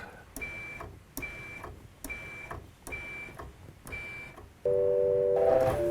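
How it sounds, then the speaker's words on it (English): A short electronic beep sounds five times at an even pace, each one thin and clear, followed by a louder, sustained buzzing tone. "I just took one of the beeps"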